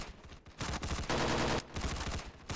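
Half-Life 2 gunfire: rapid bursts of shots in a noisy firefight, moderately loud, with brief pauses between clusters.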